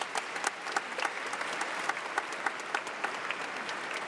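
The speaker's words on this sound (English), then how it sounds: "Please join me in applauding these special guests." An audience at a university management school commencement ceremony applauds its special guests, a continuous, even roar of many clapping hands in a large hall with scattered sharper claps near the front.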